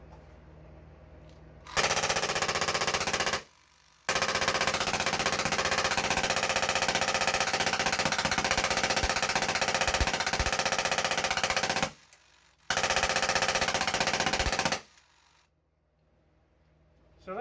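A paintball marker firing full auto on CO2 at 1,200 rounds per minute, with long rapid rattling strings of shots broken by brief pauses, loud and close, ending in quiet with a faint hiss.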